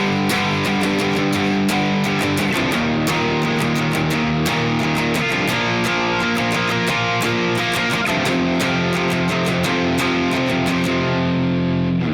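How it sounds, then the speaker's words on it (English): Distorted rhythm guitar strums open, ringing chords in a steady down-up pattern for a song's chorus, loud and sustained with sharp pick attacks throughout. "The rhythm guitar is going to keep playing the same chords, only now they'll let the chords ring open"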